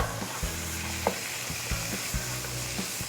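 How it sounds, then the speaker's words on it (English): Celery and onions fry with ground beef in a steady, close sizzle, broken by a handful of sharp stirring scrapes and knocks. No voices are heard. "Add that celery, add those onions."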